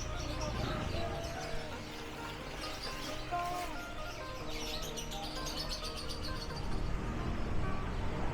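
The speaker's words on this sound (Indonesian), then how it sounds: "Ini suasana Pasar Burung Satria." Bird market ambience at Pasar Burung Satria in Denpasar, Bali, with many caged birds chirping and calling continuously over a steady background hum and faint traffic, with no clear talk.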